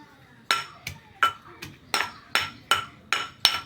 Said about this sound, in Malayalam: ഇനി നല്ലോണം നമുക്ക് ചതച്ചെടുക്കണം.